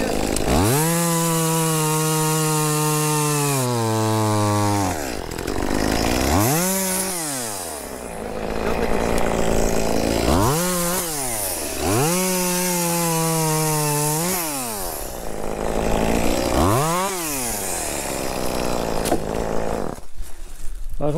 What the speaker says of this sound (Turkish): bu testereler bu işler için ideal